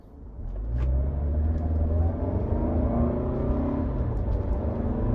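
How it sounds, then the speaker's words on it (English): A Lexus NX all-wheel-drive crossover accelerates hard from inside the cabin, its engine note rising into a steady, loud rumbling drone with road roar that holds for several seconds. "I might have a chance to test out this all-wheel drive acceleration on here"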